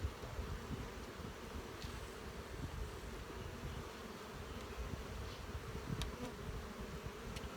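Honeybees in an open hive brood nest hum as a dense, continuous buzzing swarm, faint but close and steady throughout, with a few brief louder passes of individual bees.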